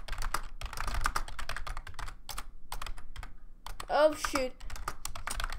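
Rapid typing on a computer keyboard during a speed-typing race, with dense clusters of close key clicks and brief pauses. A voice speaks briefly partway through.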